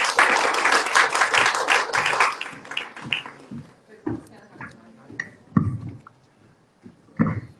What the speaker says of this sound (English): Huge round of applause for all the lovely ladies.